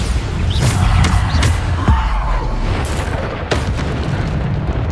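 A Bombarda spell blasting in Hogwarts Legacy during Fitzgerald's Trial, several loud booming bursts over a dense, busy backdrop of spell effects, with a sharp impact near the middle.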